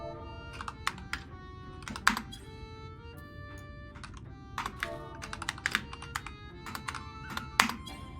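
Fingers type on a computer keyboard in steady bursts of crisp, close clicks and clacks while entering a chat command in a video game, with brief pauses between runs and no voices.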